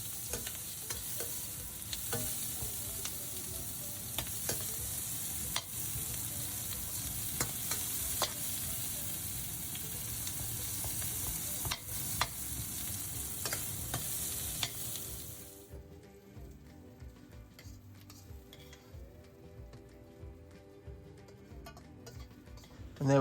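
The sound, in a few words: onions searing and being stirred in a pan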